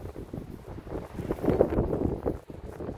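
Strong wind gusts buffet an outdoor tomato garden, rumbling and blustering against the microphone in uneven surges that swell midway and ease off.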